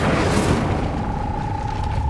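A loud, roaring burst of flame from the Incendio fire spell cast in Hogwarts Legacy, a dense whooshing rush that fills the moment and holds steady without fading.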